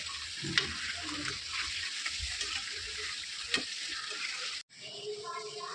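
Chicken 65 frying in a pan, a steady loud sizzle with occasional stirring clatter and scraping, broken by a brief drop before the sizzling resumes.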